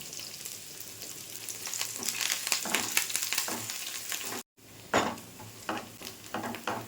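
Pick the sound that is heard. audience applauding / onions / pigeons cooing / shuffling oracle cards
onions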